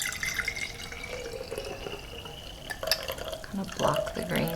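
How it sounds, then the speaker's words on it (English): Water kefir poured from a container into a small container at home, a soft trickling and splashing of liquid with light clinks, growing louder near the end. "And I just pour it straight into this little container."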